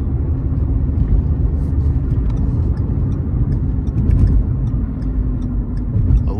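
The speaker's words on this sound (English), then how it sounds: "Transmission going through the gears perfectly fine." A 2014 Ford Fusion SE drives along with its automatic transmission shifting through the gears, giving a loud, steady low engine and road rumble heard from inside the cabin with slight changes in tone.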